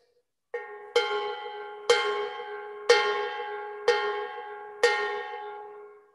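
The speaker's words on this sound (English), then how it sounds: "So the art of playing a cowbell is to be able to let it float in your hand." Cowbell held loosely in the hand at a Latin jazz workshop, struck five times at an even pace about once per second, each hit ringing open with a bright, sustained decay; close and clear, no talking.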